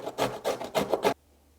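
Carrot pushed across the larger grating blade of a Surewin veggie cutter, five or six close, rhythmic rasping strokes that stop abruptly, leaving near silence.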